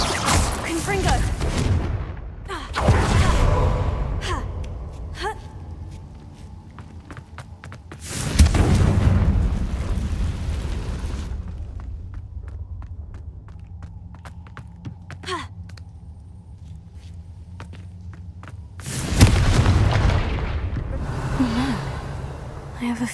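Confringo blasting spell explosions in the video game Hogwarts Legacy, three loud booming bursts spaced several seconds apart, each decaying into quieter game ambience with faint clicks and effects between them.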